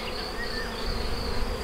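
Bees hum loudly in an open hive box, a close, continuous buzz with a brief whine from a single bee passing by.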